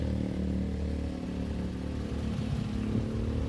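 A Toyota Vios car engine idles with a low, steady hum and faint clatter, close by and quiet, with no talking.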